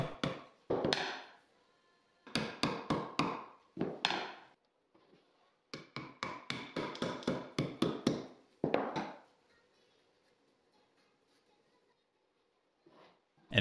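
Homemade wooden plugs tapped into holes with exterior wood glue while building an outdoor lounge chair, a series of sharp knocks in quick bursts separated by pauses, close and distinct with no talk.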